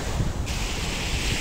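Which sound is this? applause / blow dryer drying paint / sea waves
sea waves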